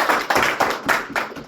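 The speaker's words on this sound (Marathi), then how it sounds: "त्यांच्यासाठी जोरदार टाळ्या वाजवा" A Congress party workers' meeting breaks into audience applause, dense clapping from many hands that swells in several quick waves across the moment, loud and close, with no talk over it.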